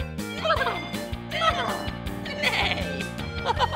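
A human voice imitates a horse's neigh with a wavering, whinnying call repeated several times over upbeat background music in a children's animal segment.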